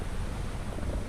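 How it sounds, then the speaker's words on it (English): Strong wind sweeps across frozen Gull Lake, Alberta, during an ice fishing derby, a steady roaring rush with gusts buffeting the microphone and no voices. "very windy day out here on Gull Lake"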